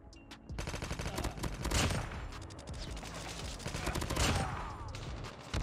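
Rapid bursts of enemy automatic gunfire in the Call of Duty Mobile shooter, sustained and loud across the whole stretch, dense overlapping shots with no voices.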